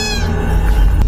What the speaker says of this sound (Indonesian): anak kucing hitam yang mengeong di tengah jalan